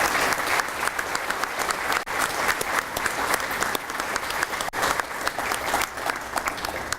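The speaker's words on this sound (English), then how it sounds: "Let's give them a big round of applause." Audience at a school district retiree reception clapping warmly for honored retirees, a sustained, fairly close burst of many hands with crisp individual claps standing out and two brief dips in the middle.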